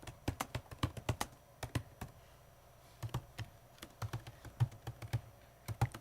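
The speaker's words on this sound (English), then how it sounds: "this Surface Laptop 3 is a very rewarding keyboard to work on" Typing on a Surface Laptop 3 keyboard, close, crisp key clicks in quick irregular bursts with brief pauses between runs, alone and fairly quiet.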